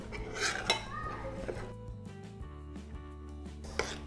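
A spoon stirs thickening milk in a pot while it cooks down for basundi, a sweet milk pudding. Soft scraping and occasional clinks against the metal sound close but quiet, under faint room hum.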